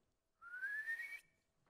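A frog's rising whistle carries through a rainforest at midnight, one clear tone that climbs steadily for nearly a second and then cuts off, alone in a quiet night.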